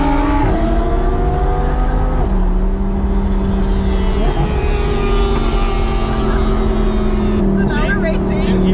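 An Audi R8 V10 supercar accelerates hard under launch control, its engine droning loudly and rising in pitch through several gear changes, heard from inside the cabin with voices talking over it.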